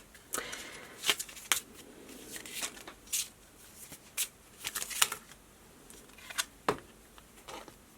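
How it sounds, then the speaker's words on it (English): A deck of cards is shuffled by hand in quiet, scattered bursts of riffling and flicking, close and fairly soft, with no talking. "Let's give this a good shuffle."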